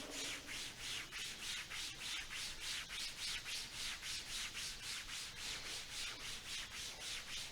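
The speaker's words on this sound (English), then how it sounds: "Begin to rub your hands along the thighs, building a little heat." Palms rubbing briskly back and forth along the thighs to build heat before a yoga flow, a steady even rhythm of soft close swishing strokes, quiet and alone.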